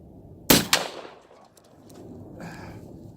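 A Thompson Contender single-shot pistol chambered in .45-70 fires one loud, sharp blast, followed a split second later by a second crack or echo. The boom then decays into a faint outdoor background.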